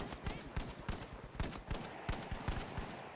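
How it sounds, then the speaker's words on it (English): Gunshots in The Finals, a steady run of sharp, evenly spaced shots cracking over a busy game background, fairly loud and close throughout. "Three shots on Crane."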